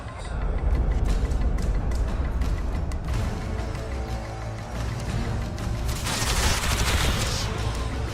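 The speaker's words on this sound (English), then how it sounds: "Take cover! They're shooting!" Dense, continuous gunfire and clattering combat noise from The Witcher 2: Assassins of Kings fill the whole stretch at a steady loud level, with a sharper burst of crackling shots near the end.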